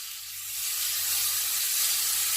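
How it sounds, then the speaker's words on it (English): A steak sizzles loudly on a hot griddle, a steady hiss that swells within the first second and then holds, with no voices. "let's get our steak in this griddle"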